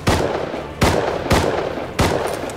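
AK rifle gunfire in the Rust video game, four sharp loud shots in an uneven rhythm, each with a short echoing tail, heard alone.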